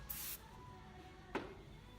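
Two short hissing bursts from an aerosol hairspray can, the first longer and the second a quick puff, close and fairly loud.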